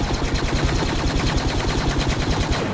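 Rapid, continuous gunfire from the Star Wars Battlefront video game, a dense stream of loud, evenly spaced shots with no pause across the whole stretch.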